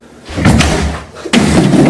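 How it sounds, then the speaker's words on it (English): A door slams shut with a heavy thud, followed by a second loud bang about a second later, both close and abrupt with no talking. "Door."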